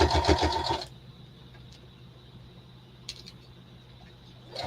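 Sewing machine stitching a tote bag, a brief loud burst of mechanical whirring at the start, then a quiet room with faint clicks and a short rustle.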